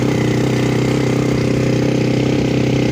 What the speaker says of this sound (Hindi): ये नीचे मोटरसाइकिल चला रहा है